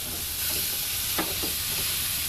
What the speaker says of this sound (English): We're going to turn these pork chops over